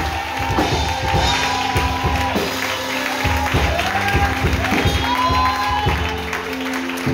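Church congregation clapping and cheering, rhythmic claps with raised voices and whoops spread through the crowd at moderate loudness, some singing or calling mixed in.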